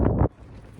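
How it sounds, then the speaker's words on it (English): A loud gust of wind buffets the microphone, then drops off abruptly to a low, steady rumble of breeze, outdoors in the Wind River Range mountains. "it is pretty windy"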